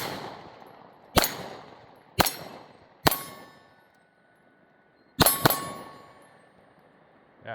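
Shots from a Canik Mete MC9 and an FN Reflex pistol strike steel targets, about six sharp cracks in an irregular sequence, each followed by a bright metallic ring that fades in the quiet between shots.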